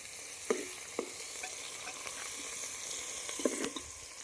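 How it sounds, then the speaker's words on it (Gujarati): Onion sautéing in hot oil for a Gujarati mixed vegetable dish gives a steady close sizzle, with a few brief stirring clicks and pops rising above the hiss. "થોડી વાર આપણે એને સતળાવા દઈએ તેલમાં"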